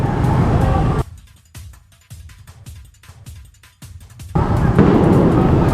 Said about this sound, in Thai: อ๋อเสียงประทัดเนาะ